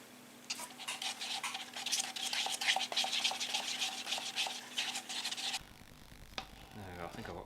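Gold resin is stirred in a container for buckeye burl knife handles, a steady close scraping and rubbing for several seconds that stops abruptly, followed by a brief tonal sound.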